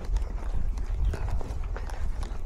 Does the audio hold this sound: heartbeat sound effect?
no